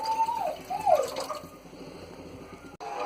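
Water is poured from a glass into a pot while cooking Maggi noodles, a gurgling, splashing fill that trails off after about a second, followed by quieter background sound and a brief click.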